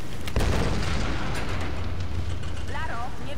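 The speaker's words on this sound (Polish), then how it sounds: "potrzebny nam silniejszy wybuch" A heavy, rumbling explosion in the video game Tomb Raider, with deep booming low end filling the space continuously, debris-like crackle and a brief whistling tone near the end.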